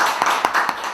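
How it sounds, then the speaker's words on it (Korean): Studio audience clapping for a guest introduced on a Korean election talk panel, a short burst of several sharp claps in a quick, fairly even rhythm at moderate distance. "네, 박수로 이렇게."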